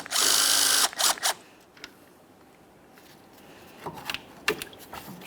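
A power tool spins off the 10mm bolt holding the power steering reservoir on a 2007–2017 Jeep Wrangler 3.6L V6, with a loud close whir for about a second, two short bursts, then light clicks and clatter of parts.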